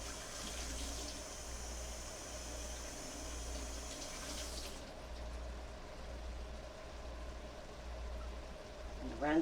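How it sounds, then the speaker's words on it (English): Cherry tomatoes rinsed in their perforated container under a running kitchen tap, a steady faint stream of water that continues for several seconds before the higher splashing hiss cuts off midway. "Rinse them right in your little containers because it's got that little holes in it."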